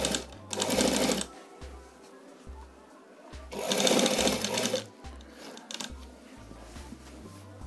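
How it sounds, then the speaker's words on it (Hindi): A sewing machine stitches a fabric strip onto the side slit of a kurta, running in two loud, steady whirring bursts separated by low hums and short motor pulses, close by with no talking. "अब ये वाली साइड जो है हम सिलाई करेंगे"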